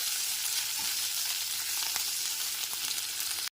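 Ginger paste frying in hot tempering for Bengali-style biulir dal, a dense steady sizzle heard close with light stirring, constant throughout before cutting off abruptly at the end.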